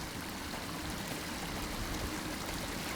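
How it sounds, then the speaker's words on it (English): Water trickling and splashing steadily in an outdoor water feature on a disc golf course, a constant, fairly faint broadband rush with no talk. "As you can see, the beautiful water feature down here."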